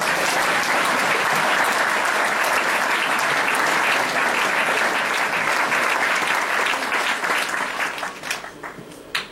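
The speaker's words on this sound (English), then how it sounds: "Please, big round of applause for our girls' most improved player, Megan Olin." Loud, sustained applause from a sizable audience at a golf team awards ceremony, dense clapping throughout that thins out and fades near the end.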